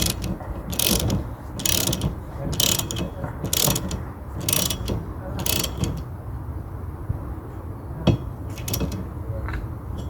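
A ratchet wrench clicks in steady repeated bursts, about six pulls, while tightening the nut of a repainted car wiper arm, close and clear over a background hum.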